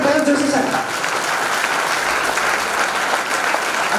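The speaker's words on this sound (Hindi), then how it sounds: "जोरदार तालियों से स्वागत कीजिए मेरे गुरुजी डॉक्टर कौर जोशी सर का" Loud, enthusiastic audience applause welcoming a guest teacher onto the stage at a college theatrical presentation on legal literacy and women's empowerment, a dense continuous clapping that begins with a brief voice over it and then carries on.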